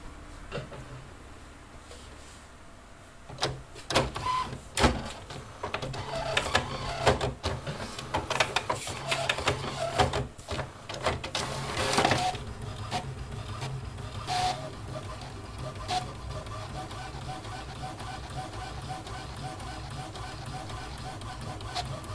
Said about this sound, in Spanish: Colocamos la hoja en la impresora y le volveremos a dar una nueva pasada.